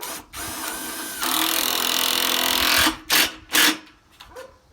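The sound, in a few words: power drill driving screws into wooden planter box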